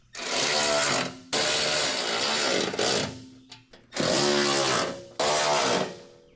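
A Milwaukee power tool tightens bolts on a lawn mower deck in four loud, close bursts of whirring and hammering, each lasting about a second, with short pauses between them.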